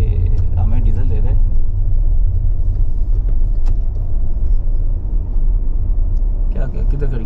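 A diesel car being driven and repositioned at a roadside in Iran, with loud, continuous low engine rumble close by while people talk over it.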